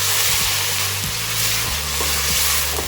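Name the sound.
whole peeled tomato sautéing in a pot for minestrone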